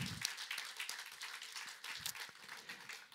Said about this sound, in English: perhaps I could ask all of you to put your hands together and just and applaud the progress of